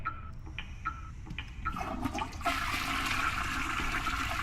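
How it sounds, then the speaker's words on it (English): A toilet flushes in the horror video game Perception, a loud rushing surge of water starting partway through and continuing to the end, preceded by faint clicks and small bumps. "Flush the toilet."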